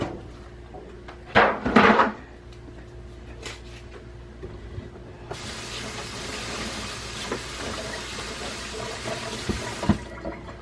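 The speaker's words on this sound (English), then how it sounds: "so I'm gonna rinse my hands off real quick" Water runs steadily from a tap for several seconds as hands are rinsed, a broad hissing splash, after a couple of brief clunks and rustles near the start.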